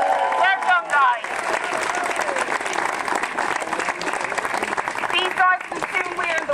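Parkrun crowd gathered outdoors for the pre-run briefing, clapping and cheering in a loud sustained round of applause, with shouts and calls rising over it near the start and end.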